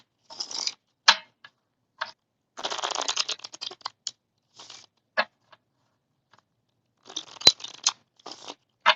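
Alice in Wonderland playing cards are shuffled in short bursts, one longer riffle near the middle and crisp quick flicks spread across the clip, close and fairly quiet, with no voices.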